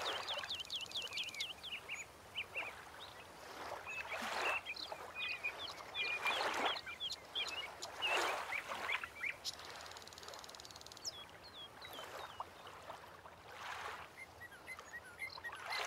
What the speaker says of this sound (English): Lots of birds.